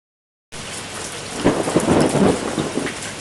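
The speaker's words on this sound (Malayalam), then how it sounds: "ആ, മഴ പെയ്തല്ലോ" Steady rain pours down loudly after a brief silence, with low rumbling thunder rolling through the middle and swelling in bursts; no voices.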